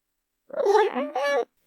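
Two drawn-out meows, close and fairly loud in an otherwise silent room, most likely a human voice imitating a cat.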